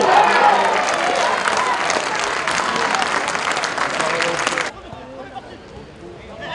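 Stadium crowd applauds as Auvergne pulls a goal back against Bretagne in a rainy football match: dense, loud clapping and crowd noise fill the first few seconds, then cut off abruptly to a faint, quieter background.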